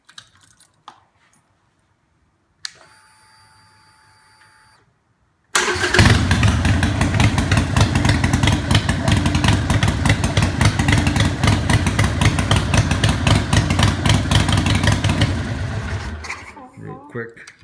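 A 2015 Harley-Davidson Sportster 883 Iron with its first upgrades cranks and fires up, then settles into a loud, rapid, lumpy idle that runs steadily for about ten seconds before cutting off, preceded by a few quiet clicks.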